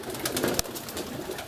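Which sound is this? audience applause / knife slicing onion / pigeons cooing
pigeons cooing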